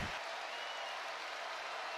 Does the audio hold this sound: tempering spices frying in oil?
no